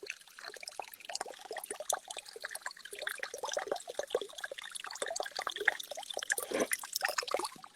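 Running water trickles and splashes softly and continuously, faint and a little distant, with fine, irregular dripping textures throughout.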